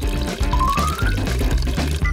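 Water pours onto a freshly planted seed in a playful kitchen setting, a steady liquid gush with a brief rising tone, over loud bouncy music.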